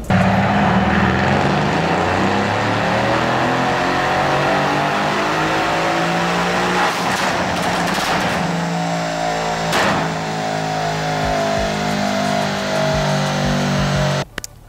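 A Mercedes-AMG C63 S engine revving hard on a dyno, a loud sustained roar climbing steadily in pitch, with a few sharp pops near the middle and an abrupt cut at the end.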